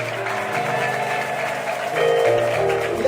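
Crowd clapping from worshippers at a church prayer gathering, a continuous patter of hands under steady musical tones, swelling a little louder toward the end.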